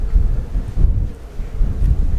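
Strong wind in Greece buffets the microphone in a steady low roar with gusting surges, loud and close, with no voices over it.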